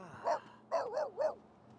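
A dog in The Sims 3 barks four times, one yip followed after a pause by three quick barks in a row, moderately close with no talking.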